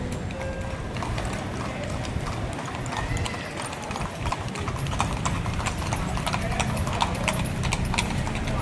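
Horse hooves clip-clop steadily and close while the horse pulls an andong carriage through Malioboro, Yogyakarta, a regular rhythmic clatter over street bustle with a faint whinny in the background.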